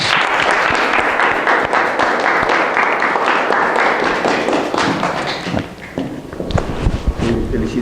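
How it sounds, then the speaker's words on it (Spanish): Applause from the audience at a thesis ceremony fills the room, loud and continuous, then thins out into scattered claps and thumps near the end. "Pero primero un aplauso."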